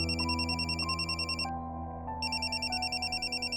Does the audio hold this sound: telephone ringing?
yes